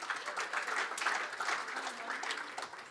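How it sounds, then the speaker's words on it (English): An audience at a club awards evening breaks into steady, moderately loud applause, with many overlapping hand claps sustained through the whole moment and tailing off slightly at the end. "Please give him a round of applause."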